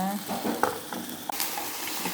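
Pork sizzles and crackles on a small Thai mookata tabletop grill, a steady frying hiss with a few light clicks of utensils, close and moderately loud.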